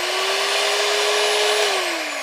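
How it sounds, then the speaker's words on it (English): A new kitchen blender runs steadily at high speed while making mango float, giving a loud, continuous whir whose pitch holds level and then drops slightly near the end. No voices are heard. "I got me a new blender."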